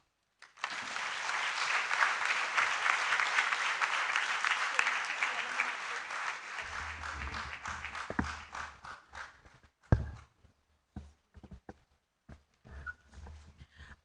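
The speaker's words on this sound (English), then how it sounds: "Another round of applause" Audience applause at a Kwame Nkrumah memorial lecture: dense, loud clapping for about six seconds, then thinning into scattered claps and low rumbling movement sounds.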